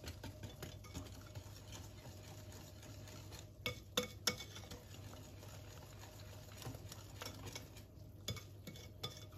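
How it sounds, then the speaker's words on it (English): A hand whisk beats eggs, butter and sugar in a bowl, giving quiet, rapid scraping and tapping against the sides with a few sharper clinks, close and faint. "And I think I'm gonna use a whisk"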